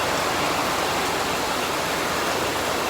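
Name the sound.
rain shower falling outdoors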